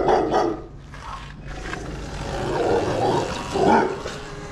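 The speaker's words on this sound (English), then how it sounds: "Dog's not happy to see me." A dog in a Los Angeles alley barks a few times, loud and close, among outdoor traffic-like noise.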